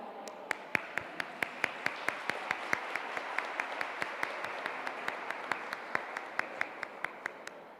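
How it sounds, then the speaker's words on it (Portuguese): Audience applause welcoming a speaker to the stage at an educators' lecture, fairly faint and distant, with a soft wash of clapping and a few sharper, evenly spaced claps standing out above it. "Então vamos receber a Rafaela com a salva de palmas"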